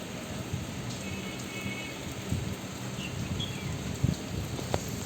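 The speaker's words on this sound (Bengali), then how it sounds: "টুপটাপ টুপটাপ বৃষ্টি পড়ছে।" Light rain pattering steadily outdoors, a soft even wash of drops with a few louder nearby drips and a low distant rumble beneath.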